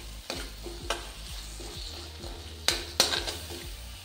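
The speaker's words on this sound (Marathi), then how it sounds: "आता आपण आपले टोमॅटो मऊ होईपर्यंत आपल्याला परतून घ्यायचे आहे" Tomatoes and spices sautéed in a pan for a spicy tur usal, a soft sizzle under several sharp clinks and scrapes of a spoon stirring against the metal pan, close and without talk.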